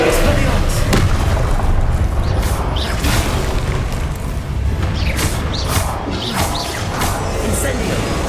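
Spell blasts from Confringo and Incendio casting in the Hogwarts Legacy video game, a dense run of booming, crashing impacts and whooshes that keeps up loud and continuous, with a voice speaking over the action.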